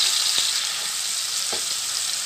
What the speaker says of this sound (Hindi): ऑयल हमारा गर्म हो गया। अब मैं इसे इसमें ऐड कर दूँगी, देखें इसे मिक्स करेंगे हल्का सा